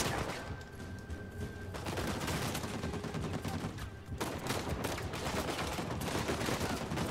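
Mounted turret firing in Uncharted 4, rapid, sustained machine-gun bursts hammering close and loud almost without pause, with a brief dip midway.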